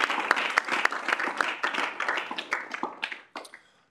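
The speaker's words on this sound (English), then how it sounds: "So let's have a round of applause for Michael." Round of applause at a student senate meeting, a room of people clapping steadily and fairly close, with individual claps distinct, tapering off toward the end.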